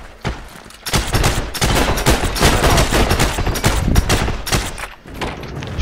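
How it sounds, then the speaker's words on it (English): Rapid gunfire in the Heroes and Generals video game, with dense overlapping bursts and volleys that go on almost without a break, loud and close, with short lulls near the start and end. "I swear, someone's firing over there."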